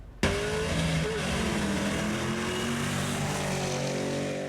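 Cars drag racing just before midnight on a neighborhood street on a city's west side, a loud engine roar bursting in suddenly and holding steady with droning, shifting tones as vehicles rev and pass close by.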